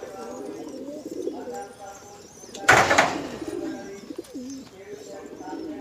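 Giribaj pigeons in Rajshahi coo softly and intermittently, with a brief loud fluttering burst partway through and a voice faintly audible in the background.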